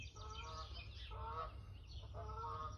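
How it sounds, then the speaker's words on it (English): Wild geese honk in the background of a garden, three bursts of repeated nasal calls over steady low rumble, fairly distant. "you can hear some wild geese in the background"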